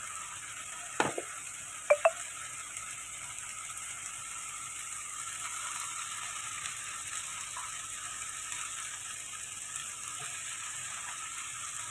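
A pan sizzles with a steady, quiet fry while red sauce pasta ingredients cook, broken early on by a few sharp clicks and scrapes of stirring.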